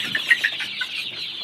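Sonali chickens on a poultry farm cluck in a few quick, close chirping notes near the start, then a steady higher-pitched flock murmur continues.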